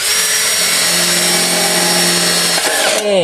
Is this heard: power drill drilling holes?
yes